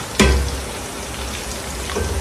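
Chicken pakodi frying in hot oil over a medium flame gives a steady, rain-like crackle and sizzle, with a brief louder burst near the start, alone with no talk.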